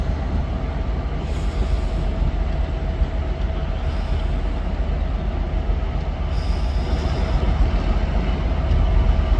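Loud continuous rumble of a train at Manchester Piccadilly station, heavy low-end roar with brief high wheel squeals rising now and then, no voices.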